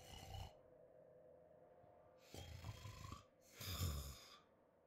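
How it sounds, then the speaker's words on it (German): A sleeping character snores in the video game Bright Curse 2, with two or three slow, breathy, rasping snore cycles separated by quiet pauses, soft and close. "Ja, schnarcht."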